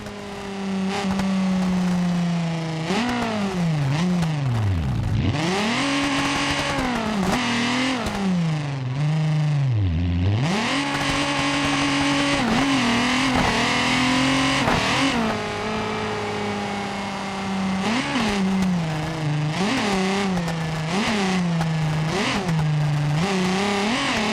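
Volkswagen car mod engine in BeamNG Drive revving hard through repeated gear changes, its pitch climbing and dropping sharply several times, loud and up close with no talk.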